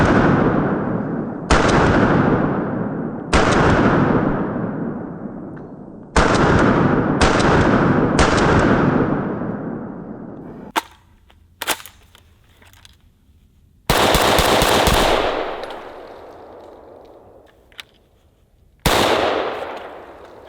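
An early Steyr AUG rifle fires loud single shots outdoors, each sharp crack followed by a long echoing decay, several spaced shots then a quieter stretch with clicks before two more blasts.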